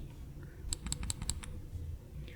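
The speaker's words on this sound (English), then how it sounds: "This is going to be the shoulder button." Several crisp, close clicks of a Manba One v2 controller shoulder button pressed repeatedly in a quick burst, with quiet background noise before and after.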